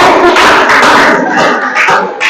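Classroom applause for a student named Aurelia after she reads a poem draft in an Indonesian language lesson: dense, continuous clapping from a group of students, loud and close, fading slightly toward the end.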